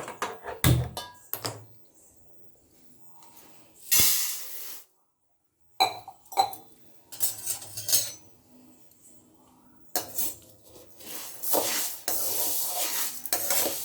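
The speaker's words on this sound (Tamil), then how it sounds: "வெறும் பாத்திரத்தில் எண்ணெயெல்லாம் சேர்க்காம அப்படியே வறுத்து எடுக்கணும்" Urad dal is dry roasted in a bare pan with no oil and stirred, producing bursts of scraping and rustling grain with metallic clinks, broken by short silent pauses.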